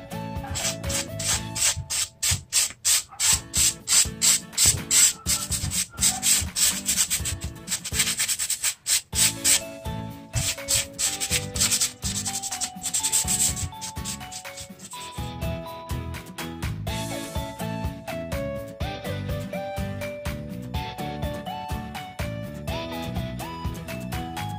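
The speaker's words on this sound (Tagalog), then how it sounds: "tapos na tayong mag-SS or mag-sandpaper" Wood surface being sanded by hand with sandpaper during DIY crack and dent repair, a close, loud rhythmic scraping of back-and-forth strokes that runs steadily throughout.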